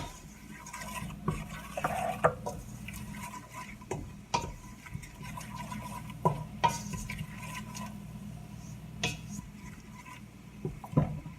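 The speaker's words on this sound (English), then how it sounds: "I give it a big stir." Pea and vegetable soup with chopped parsley being stirred in a pot, a quiet scraping swish punctuated by soft clinks of a utensil against the pot at irregular intervals, close by and without talk.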